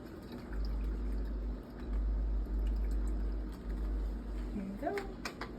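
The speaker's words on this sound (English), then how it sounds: "You want to put your water inside this small white part here." Water pours into the small white reservoir of an autoclave sterilizer as a steady, close, low-pitched gushing stream that runs several seconds, with a brief voice near the end.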